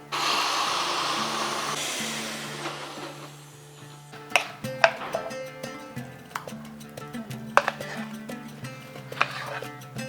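Soaked lentils being ground with a green chili in an electric grinder with very little water, a steady whirring drone at first, then irregular knocks and clatters as the grinder is worked, close and fairly loud.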